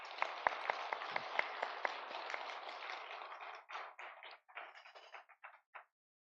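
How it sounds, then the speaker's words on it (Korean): Church congregation at a Sunday worship service claps in encouragement for the choir, a dense burst of hand claps that thins into scattered, separate claps before stopping. "격려의 박수 한번 쳐줍시다."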